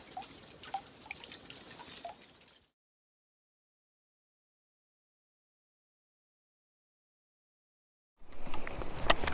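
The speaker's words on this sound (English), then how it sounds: "Here's Mission Spring. It's trickling," Water from a small natural spring trickling and dripping beside a desert hiking trail, close and soft, with a quiet gap in the middle before the drips return.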